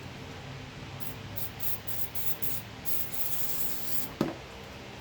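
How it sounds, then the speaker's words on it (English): Throttle body cleaner sprayed onto a cloth, a soft hissing aerosol burst in short pulses, followed by rubbing and a sharp click near the end, close and fairly quiet, while working on an Infiniti JX35 / QX60. "Spray some throttle body cleaner in here."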